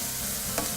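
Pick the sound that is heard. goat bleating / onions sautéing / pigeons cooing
onions sautéing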